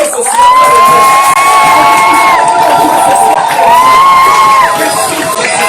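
A church congregation at a New Year's Eve Sunday service cheers, whoops and shouts praise continuously, a loud sustained crowd roar with high, ringing voices layered throughout.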